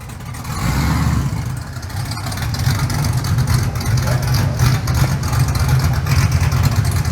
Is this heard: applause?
no